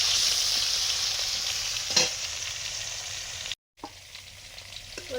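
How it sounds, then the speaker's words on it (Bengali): Koi fish frying in hot oil in a pan, a steady loud sizzle with occasional stirring scrapes, a brief dropout partway through, no voices. "কই মাছ ভাজা হয়ে গেছে"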